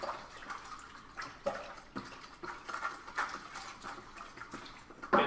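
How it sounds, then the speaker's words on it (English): Liquid being stirred in a homebrew bucket while bottling beer, with irregular sloshing and swirling splashes, close and moderately loud, a few sharper knocks of the spoon against the bucket wall, no talking. "Get some stir action going on."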